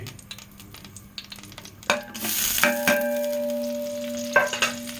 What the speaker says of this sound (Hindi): तो ये डाल के हल्का सा हिला लेना है।